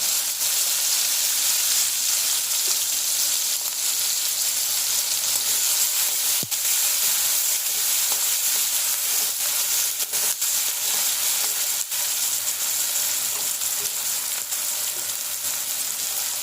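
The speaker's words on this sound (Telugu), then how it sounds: "ఆనియన్స్ చిల్లీస్ వేస్తున్నాం బాగా వేగాలి" Onions and chillies frying in leftover oil in a pan, salted, for a dry fish and white brinjal curry, with a loud, continuous crackling sizzle throughout and a few faint clicks, close up and with no talk.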